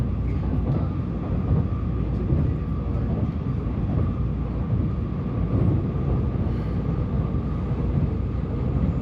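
Shinkansen bullet train out of Tokyo, heard from inside the car as a steady low rumble and rushing hum that stays even throughout, with no talk.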